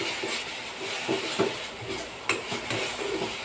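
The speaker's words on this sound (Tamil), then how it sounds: "முருங்கைக்கீரை வறுத்துட்ருக்கேன்" Drumstick (moringa) leaves fry in a pan with a pinch of asafoetida: a steady close sizzle broken by occasional scrapes and taps of stirring.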